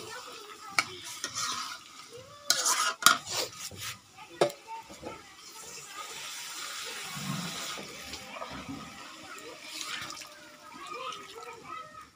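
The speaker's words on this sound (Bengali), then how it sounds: "পানি দিয়ে দিলাম।" Water is poured into spiced chicken pieces being braised in a pot, with no potatoes added. Several clinks and clatters come first, then a steady close splashing pour fills the rest of the clip.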